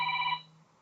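A telephone rings once, a short electronic ring that sounds clearly for about a third of a second and then fades out over a faint background.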